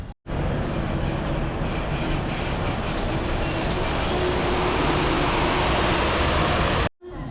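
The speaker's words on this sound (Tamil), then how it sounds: "இப்போ நம்ம சத்ரபதி சிவாஜி டெர்மினலோட ரயில்வே ஸ்டேஷன் உள்ளே வந்தாச்சு" Inside Chhatrapati Shivaji Terminus railway station in Mumbai, a loud, steady wash of station and train noise fills the space without a break for about seven seconds.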